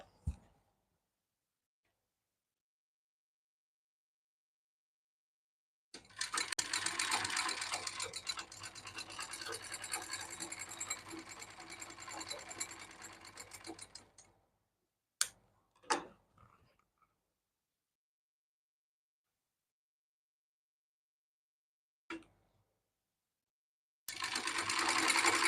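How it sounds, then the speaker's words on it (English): An overlocker sewing machine runs along a fabric edge while making shorts, in one fast mechanical burst of about eight seconds, then a few faint clicks amid quiet and a brief restart at the end. "I'll go over to the overlocker right there and I'll quickly do that"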